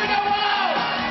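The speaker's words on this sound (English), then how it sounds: "Back-to-back music festivals have brought crowds of fans cheering on their favorite bands." A music festival crowd cheers and whoops in a brief, sustained roar, like fans cheering a band at Cincinnati's Buckle Up Music Festival.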